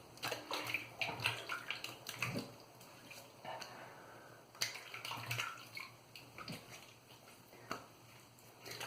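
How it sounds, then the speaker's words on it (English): A synthetic shaving brush is rinsed under running water, producing close, uneven splashing and trickling with intermittent sloshes and drips, fairly faint, with no speech. "I'm gonna rinse this off."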